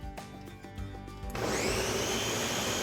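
A blender starts partway through, mixing chipotle red salsa ingredients. A few faint knocks come before it, then the motor cuts in with a sudden loud, steady whir that runs to the end.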